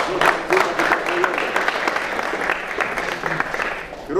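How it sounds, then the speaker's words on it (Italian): Steady, dense applause from a crowd at an award ceremony for volunteer rescue groups, honoring the Italian Red Cross; continuous clapping throughout, fairly loud and close, with no speech over it. "Un applauso quindi per la Croce Rossa Italiana."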